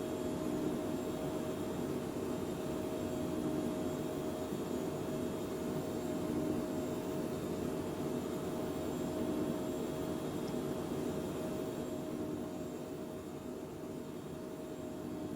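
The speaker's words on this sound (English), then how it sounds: "Take some of the edge off that engine sound." A jet airliner's engine inside a flight simulator game: a steady, even whine and hiss with a faint high tone, droning at low volume without change throughout.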